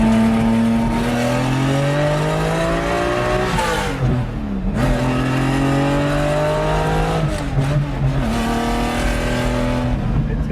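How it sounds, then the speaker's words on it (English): A Lamborghini engine roars loudly and close, holding a steady throaty drone, then dropping and swelling again through repeated revs, with a voice briefly heard beneath. "We'll fire up the Lambo and have a little fun."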